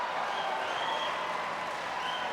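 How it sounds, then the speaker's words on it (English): Steady audience applause in a hall during a Senate debate, a dense, even patter of clapping that holds at moderate level for a couple of seconds, with no voices over it. "You can hold your applause."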